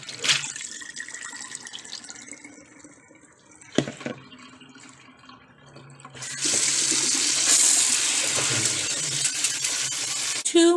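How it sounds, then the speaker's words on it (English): Water from soaked Irish sea moss runs and splashes into a sink at close range, first with soft trickles and drips, then rising into a louder, steady gushing flow in the second half. "I'm going to pour this water off"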